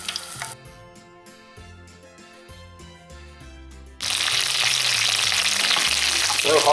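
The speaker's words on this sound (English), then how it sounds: "That's frying up nicely." Battered prawns deep frying in hot oil, a steady loud sizzle that swells sharply partway through as the prawns go in, with music underneath.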